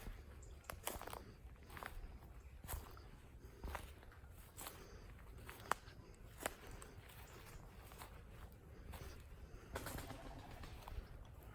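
Pigeons coo softly in a dark spot along a cycling trail, low throaty calls scattered among faint shuffling footsteps and light knocks, fairly quiet and with no one talking.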